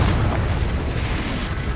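A fire spell explodes in the Hogwarts Legacy video game, a loud low booming blast with a rumbling, crackling tail that fills the short moment.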